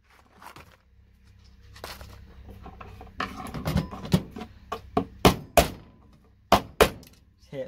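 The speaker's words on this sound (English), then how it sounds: "Hit at the back of your hammer, quickest way." Several sharp hammer blows crack and shatter brittle plastic motherboard relays, a quicker run of loud impacts near the end after some softer tapping.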